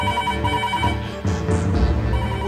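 A telephone bell rings indoors in a Hindi TV comedy serial, repeating steadily for a couple of seconds over a bed of background music.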